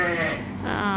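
A sheep on a farm bleats in a wavering, nasal call, close and clear, with a second bleat following right after.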